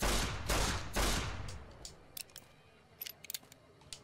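Revolver fire in the video game Fallout New Vegas: three loud, closely spaced shots at the start, followed by quieter scattered clicks and metallic taps as the sound fades.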